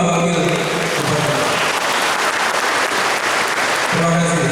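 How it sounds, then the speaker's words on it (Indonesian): An audience in a hall applauds the five deputy regent candidates at a 2017 Nagan Raya regional election debate, loud sustained clapping filling the room, with a voice and music briefly audible at the start and end. "Saya mengundang hadirin yang berada dalam ruangan dan di luar ruangan untuk memberikan tepuk tangan kepada 5 wakil bupati."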